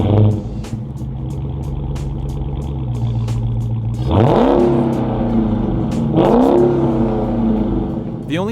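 A 2015 Dodge Charger SRT Hellcat's supercharged engine idling with a deep burbling rumble, then revved twice in sharp rising surges that fall back to idle, loud and close.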